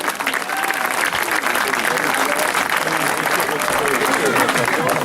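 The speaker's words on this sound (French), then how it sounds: "on peut aussi les applaudir très très fort" Steady, loud applause from an audience at an FSGT cycling event ceremony, dense clapping sustained throughout with crowd noise.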